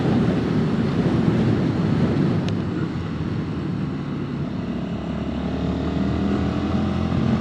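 Sinnis SM-XE supermoto motorcycle engine while riding on the road, a steady low-pitched drone with wind rush, continuous and moderately loud throughout, with no talk.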